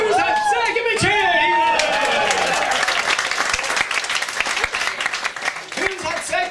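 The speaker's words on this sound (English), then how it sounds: "Who's had sex? Give me a cheer." A comedy club crowd in Munich cheers and whoops loudly in response to a comedian's prompt, a dense swell of voices that eases into scattered clapping and chatter.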